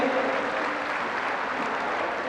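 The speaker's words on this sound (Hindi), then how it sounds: "कृपया सभी के लिए एक बार जोरदार ताली बजाकर स्वागत करें" Audience applause at a Shiv Mahapuran katha on its fourth day, a steady, dense wash of clapping from a large gathering that holds at an even level throughout, with no voices above it.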